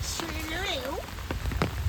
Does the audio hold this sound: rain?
yes